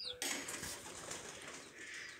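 A faint flurry of pigeon wings flapping close by, a soft rustling burst with birds stirring in the background.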